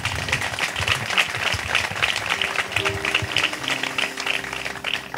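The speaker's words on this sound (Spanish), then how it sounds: "Un aplauso grande para Javi, por favor." Wedding guests break into steady applause at a humorous ceremony, a dense crowd clapping continuously at moderate loudness with faint voices underneath.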